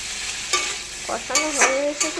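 Pointed gourd sautéed in a pan, with a soft sizzle underneath and a few quick spatula scrapes and stirs clattering close by in short bursts.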